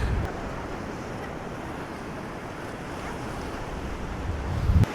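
Ocean surf rolling onto a beach in Peguera, Mallorca, a steady loud wash of breaking waves with wind noise on the microphone throughout and a stronger surge near the end.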